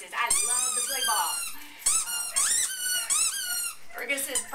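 Yorkie mix dog playing with a squeaky toy, loud repeated high squeaks in quick bursts and squeezes, close and clear, with a person talking underneath at times.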